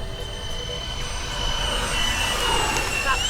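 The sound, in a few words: RC FMS A-10 Warthog twin ducted-fan motors fly-by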